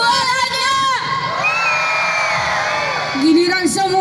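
A large crowd at a community festival and arts show shouts and cheers together, loud sustained yells and whoops with children's voices rising in bursts.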